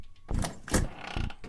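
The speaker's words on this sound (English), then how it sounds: "And the door opened." A door opening in the horror game The Witch's House, heard as a burst of broadband creaking and thudding texture after a short quiet lead-in, fairly loud and alone with no voices.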